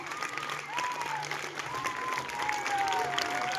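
Students and staff at a school Republic Day event applaud the teachers, a continuous crowd clapping with a faint cheer rising over it, steady and moderately loud throughout.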